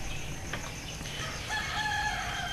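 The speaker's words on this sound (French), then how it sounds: "Désolé pour les coqs qui chantaient ici." Roosters crow at daybreak, with several drawn-out cock-a-doodle-doo calls at moderate distance over a steady outdoor background.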